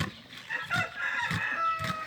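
Backyard chickens cluck while a rooster crows nearby, short repeated calls over light ambient noise, with no talk.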